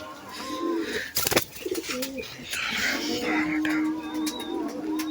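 A high-flying pigeon coos nearby in bright sun with soft, low, repeated calls, broken by a sharp brief clatter, with faint chirps in the background.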